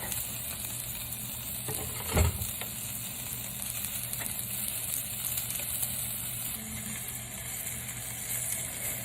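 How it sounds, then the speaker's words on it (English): Zabuton steak searing in a hot pan gives a steady, close sizzle of frying fat that holds through the whole stretch, with one brief louder knock partway in. "the steak is searing up nicely"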